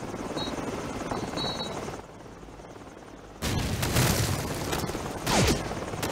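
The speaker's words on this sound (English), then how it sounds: "Heads up! Choppers inbound!" Helicopters inbound during a Call of Duty 4: Modern Warfare firefight, a loud rotor roar under bursts of gunfire and explosions, swelling after a quieter stretch.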